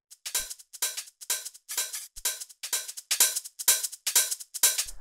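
Dry deep minimal house hi-hat pattern with no saturation: crisp, bright percussive hits repeat in a steady, even groove of about two per second, with no other sounds.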